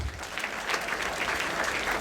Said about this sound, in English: We may clap for them.